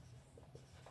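Faint scratchy strokes of handwriting on a board or page during a physics lesson on single-slit diffraction, soft and close.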